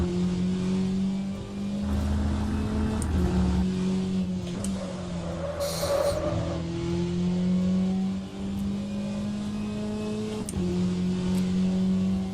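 A GTE racing car engine in the racing simulator rFactor 2 drones steadily with shifting pitch, rising and falling through gear changes, loud and continuous with no talking.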